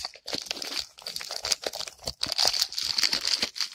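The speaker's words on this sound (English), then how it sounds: "It's very sticky, and I don't have any" A sticky taped mail package being torn open by hand, with irregular bursts of crinkling, ripping and crunching at close range and no talk.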